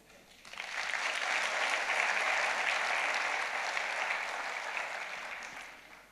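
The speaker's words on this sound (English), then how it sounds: "let's give a round of applause to all the teams" A sold-out theatre audience at a Natya Darpan show bursts into applause, a broad wash of clapping that swells quickly, holds steady for several seconds, then tapers off.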